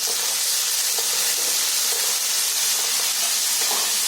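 Tomatoes go into hot oil in a pan for a Maharashtrian village curry. A loud, steady sizzling hiss continues throughout, with faint stirring clicks and no voices.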